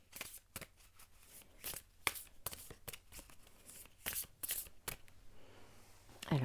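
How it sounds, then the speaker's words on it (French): Oracle cards being shuffled by hand, a quick series of close, crisp riffling and slapping bursts with brief pauses between them, heard alone with no talk. "je mélange les cartes et on choisit tout de suite 5 cartes"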